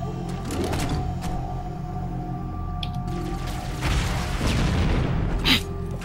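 Muffled explosions in Halo: Combat Evolved thud and rumble, with a few heavier booms building near the end over a low, constant background drone.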